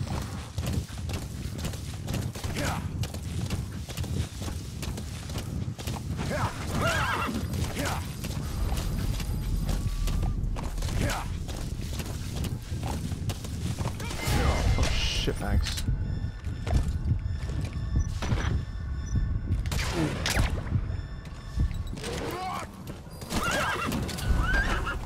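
A horse in MGSV: The Phantom Pain whinnies and neighs several times amid steady clip-clopping hooves, close and prominent, with game sounds mixed underneath.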